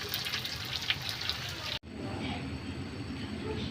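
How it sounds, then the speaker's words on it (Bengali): Water is poured into a pan of spiced meat being fried down, a steady rushing hiss after a brief cut, with the pan sizzling underneath. "এবার জল ঢেলে দেবো।"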